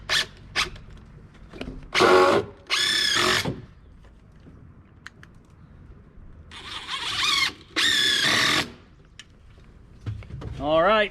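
A power drill drives screws into boards in four loud, whining bursts of about a second each, separated by quiet gaps with brief knocks and handling noise.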